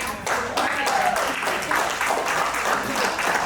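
Audience applause during a talk, a steady wash of clapping from a crowd at moderate loudness, continuing throughout without a clear break.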